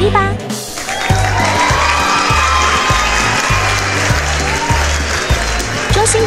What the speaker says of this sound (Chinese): 给辛苦的同仁们来点掌声鼓励鼓励吧